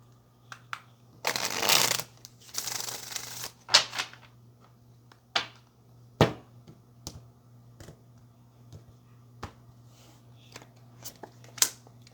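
Tarot cards are shuffled in two strong papery riffles, followed by a scattering of sharp, separate taps and flicks as the deck is squared and handled, close and quiet between bursts.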